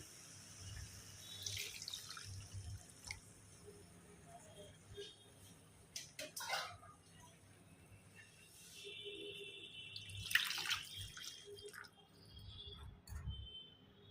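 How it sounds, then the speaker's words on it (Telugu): Water is poured from a mug into a pot of bachelor-style chicken kurma with whole spices. Splashing pours come in intermittent bursts, with faint dripping and quiet gaps between them. "సో నేను పెద్ద గ్లాస్తో ఈ మగ్గుతో 3 పోస్తున్నాను"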